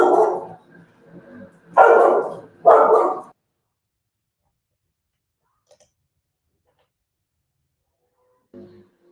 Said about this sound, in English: Let me tell this dog to shut up